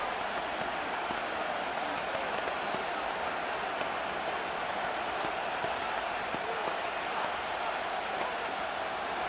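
A stadium crowd in the Madden 25 football video game roars as a steady, dense wash of cheering that holds throughout.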